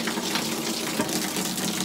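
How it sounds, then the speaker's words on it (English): A dense, steady hiss of pouring water, like heavy rain drumming down close by, constant and unbroken. "It's pouring rain now."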